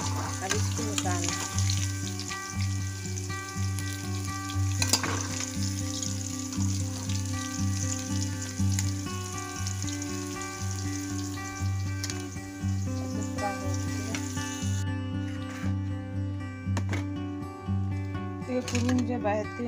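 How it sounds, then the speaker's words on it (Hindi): Kurtole (teasel gourd) pieces fry in hot oil, giving a steady sizzle throughout, close and fairly loud, with a low continuous hum and some clatter underneath. "कुरंजे बेहतरीन तरीके से तल चुके हैं, इसे ऐसे तले हैं हमारे।"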